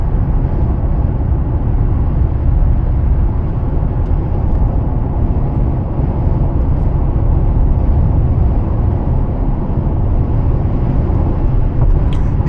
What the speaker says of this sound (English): That's wind buffeting off the side of the truck now.